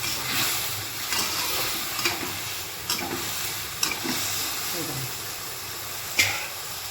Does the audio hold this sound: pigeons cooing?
no